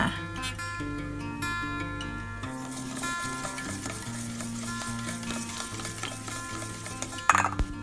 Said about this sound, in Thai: จากนั้นก็คนๆเขานิดนึงค่ะ